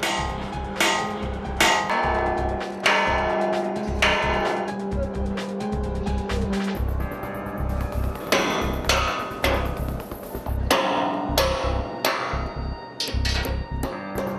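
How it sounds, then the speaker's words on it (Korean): A hammer pounds the steel support frame of a tower crane during a climbing operation on a high-rise construction site. Loud, ringing metallic blows repeat in irregular bursts, close and dominant, with no talking. "망치질로 지지대 프레임을 옮겨"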